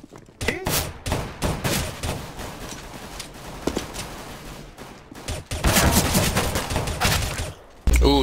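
Pistol gunshots in a CS:GO match: sharp, loud cracks fire repeatedly in irregular clusters through the clip. The shooting grows denser toward the end and rises above ongoing in-game noise.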